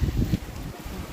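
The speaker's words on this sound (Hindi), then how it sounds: "ठंडी हवा चल रही है" A cool wind blows outdoors after rain and buffets the microphone. It makes a loud, low rumble that is strongest at the start and then settles into a steady breezy hiss, with no one speaking.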